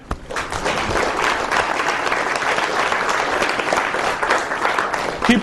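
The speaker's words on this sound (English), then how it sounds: "Keep clapping until she gets to the front." Sustained applause from a keynote audience as a volunteer walks to the front; full, steady clapping at close range that continues for several seconds.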